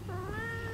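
A domestic village cat gives a single drawn-out meow, fairly faint, over a low background hum with no talking.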